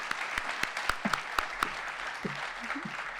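At a medical school fireside chat, a few people clap for the panelists with scattered, sparse claps rather than a full ovation. Faint voices murmur between the claps.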